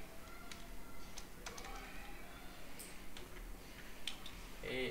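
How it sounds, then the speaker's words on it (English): Computer keyboard typing during a game server search in Ark Survival Ascended, quiet scattered keystrokes in short bursts over a steady background hum, with faint talk at times. "join game, type naked and afraid"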